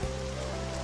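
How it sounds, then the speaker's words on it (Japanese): Steady rain falls throughout a moment in the dating-sim game Tokimeki Memorial 2, a dense continuous wash of drops with an even level and no voices. "雨か"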